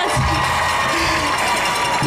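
A crowd cheers loudly and continuously for Faith Kipyegon running, with whoops and shouts over a dense wash of applause.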